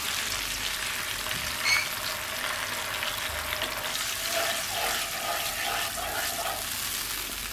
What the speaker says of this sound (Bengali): এবার কড়াইয়ে আমি আবার একটু পানি দিয়ে দেব।